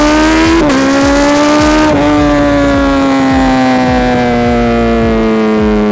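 A Suzuki B-King motorcycle with a broken gearbox accelerates hard, its engine roaring loud and close with two quick gear shifts, then a steady high whine held at speed.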